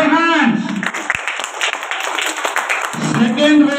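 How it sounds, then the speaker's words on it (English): A crowd of schoolchildren claps at a prize announcement in a Bengali school event, a dense burst of applause lasting a few seconds between a speaker's amplified voice at start and end. "Clap your hands।"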